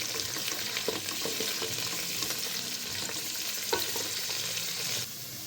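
Onion with coriander and mint leaves frying in hot oil for a goat head-and-trotters sambar, giving a steady, loud, close sizzle with scattered crackles and stirring clicks that drops off abruptly near the end.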